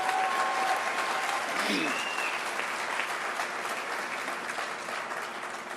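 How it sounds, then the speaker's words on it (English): Sustained applause from a large audience at a Johnstown, Pennsylvania campaign rally, greeting President Clinton, steady and loud throughout with some crowd noise mixed in. "Please give a great round of applause to President Clinton"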